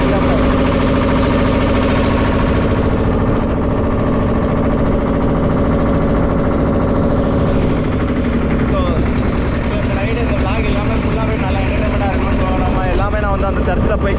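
A boat engine drones steadily and loudly throughout a sea ride toward a church out in the sea, with a constant low hum and no break, while voices are heard over it.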